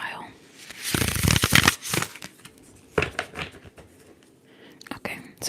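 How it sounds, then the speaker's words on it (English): Tarot cards are shuffled close to the microphone in a quiet ASMR reading, giving crisp riffles and rustles in irregular bursts, with soft whispering between them. "let's shuffle and get one for each"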